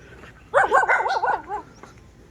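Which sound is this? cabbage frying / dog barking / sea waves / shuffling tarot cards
dog barking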